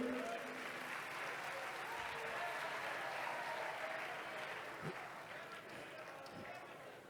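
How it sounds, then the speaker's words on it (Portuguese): An audience applauds Professor Camila at a nanotechnology lecture in a steady, dense wash of clapping that holds for several seconds, with a faint voice underneath and a couple of low thumps near the end. "Uma salva de palmas para a professora Camila."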